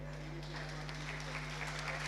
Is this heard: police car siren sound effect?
no